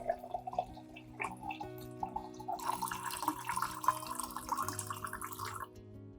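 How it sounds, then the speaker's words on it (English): Water pours into a container to soak orchid roots with nutrients, a steady trickling and dripping stream that swells in the middle, close and fairly soft, with no voices. "Then, I add about 500 milliliters of water"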